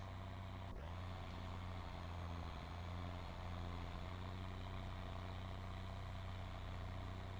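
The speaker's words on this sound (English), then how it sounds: "Tractor's just labouring. She's just struggling." A tractor engine labours under heavy load in Farming Simulator 22, a steady loud low drone with a constant throbbing hum running without a break.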